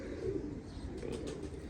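An old favourite pet pigeon coos softly on a rooftop loft, low throaty murmurs repeating steadily over a dull background hum, with no one talking.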